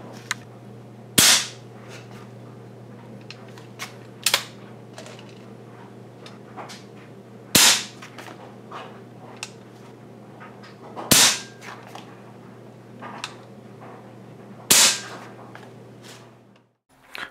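Edgun Gen 1 R3 .30 caliber PCP air rifle with power plenum fired at 120 bar, five sharp, loud cracking shots spaced a few seconds apart over a low steady hum, no talking.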